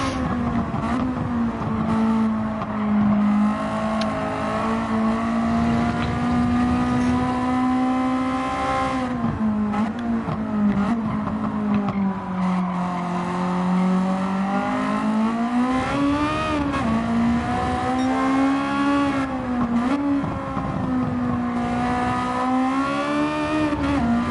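A race car engine in Gran Turismo 7 revs continuously and close up, its pitch rising and falling over about 24 seconds as the car accelerates and eases off, with faint tire squeal and no voices.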